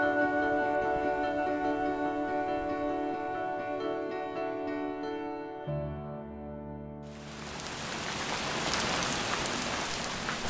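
Steady rain falls at a campsite, a dense close hiss that swells louder in the second half, with tonal hum in the first part and no talking.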